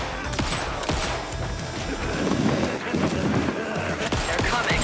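Rapid gunfire from the video game Alan Wake II, about twenty shots fired at an enemy, sharp repeated bursts over a dense, busy game soundscape with a faint voice mixed in.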